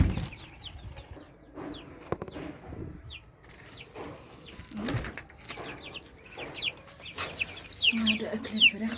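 Backyard chickens feeding on poultry feed, with ducks kept alongside, cluck and squawk repeatedly in short, close calls that cluster most densely near the end, over a low background of pecking and general farmyard noise.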